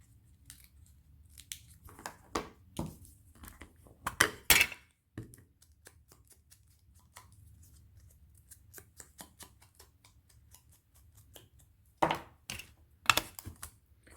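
Scissors snip through scrapbooking paper in short crisp bursts, a few quick cuts clustered early, then quieter handling noises before another tight group of snips near the end, close up in a quiet room.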